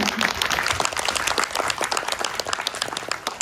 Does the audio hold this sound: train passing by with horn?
no